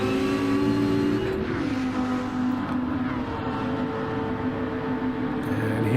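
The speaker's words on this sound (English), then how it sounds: "You can hear that Mazda in the background." Mazda race car engine in a Daytona 24 hours endurance race in a racing game, a continuous droning roar at full throttle with a falling pitch sweep, steady and loud with no talk.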